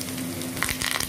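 Cumin and garlic dropped into two tablespoons of boiling oil for tempering give a steady, close sizzle with a few sharp crackles, with no talking.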